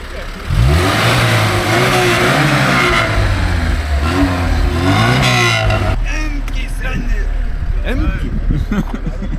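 A car engine revs hard and loud through a rising then falling drone, with a shift in tone partway, while voices talk over it and a steadier low engine rumble carries on near the end.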